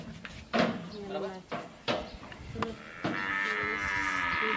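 A cow moos several times in short repeated calls at close range during a farm session giving intramuscular injections to cattle and goats, ending in a longer drawn-out bellow, with people talking nearby.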